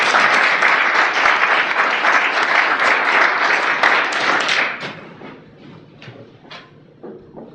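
Warm, dense audience applause greets lecturer Jonathan Kimmelman, filling the room for several seconds before thinning into scattered claps and taps as it dies away.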